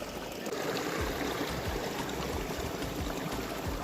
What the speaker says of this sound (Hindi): इस तरफ देखिए जी पानी चल रहा है, कंटिन्यू पानी चल रहा है।